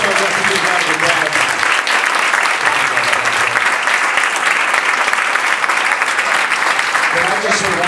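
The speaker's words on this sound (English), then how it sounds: "Let's give a big round of applause." Big, continuous round of applause from the audience at a Yelp sales conference, dense and loud for nearly eight seconds, with some voices mixed in near the end.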